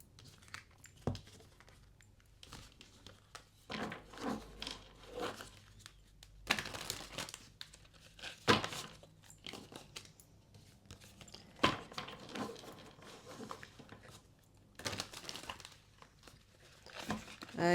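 Tarot cards being shuffled by hand for a reading, giving soft crinkling riffles and quick slaps in irregular bursts, close and fairly quiet, with short pauses between runs.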